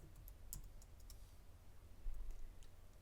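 Quiet keyboard typing at a computer, a handful of soft, scattered key clicks over a faint low hum, close to the microphone and with no speech.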